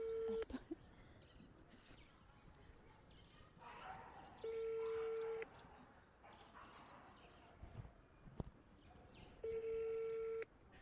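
A phone placing an outgoing call gives two long ringback tones, evenly spaced and fairly faint over a low room background with scattered small noises and no talking.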